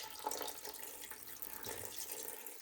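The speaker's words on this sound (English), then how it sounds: "So I'm just pouring water in until it comes to just above, or just below, excuse me, the bowl" Water pours into a pot around a bowl set inside it for making rose hydrosol, a close, faint splashing trickle with small drips and gurgles.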